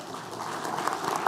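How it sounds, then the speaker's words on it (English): A conference audience at a circular economy forum closing session gives a round of applause, a dense, fairly faint patter of many hands with a few sharper claps toward the end. "let's give Ash and Chris a big round of applause"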